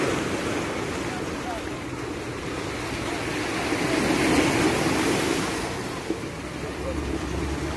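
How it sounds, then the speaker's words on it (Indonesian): Red Sea waves wash in steadily on the beach with a broad roar that swells gently in the middle, mixed with wind buffeting the microphone. "Suara ombak."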